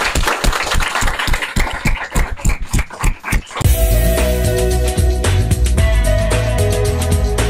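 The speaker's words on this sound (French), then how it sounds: "je vous demande de vous applaudir" An audience at a college school show claps in a steady rhythmic beat for a few seconds, and then loud music takes over.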